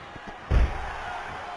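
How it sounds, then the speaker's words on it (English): A wrestler is driven down in a backside slam onto the ring mat, landing as one heavy, booming thud that rises from a low steady background and leaves a short rumbling tail. "And another backside slam."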